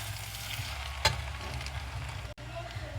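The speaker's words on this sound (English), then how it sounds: "Stir fry it a little bit more, and then you can actually switch off the heat." Yellow noodles with egg for mee goreng sizzle steadily in a hot pan while being stir-fried, a loud continuous frying hiss with a sharp scrape of the utensil partway through.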